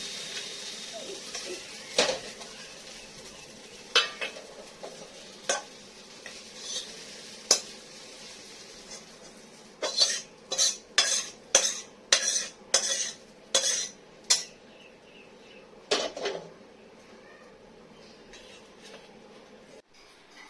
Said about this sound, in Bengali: একটু ভাত আছে ওগুলো ভেজে দেবো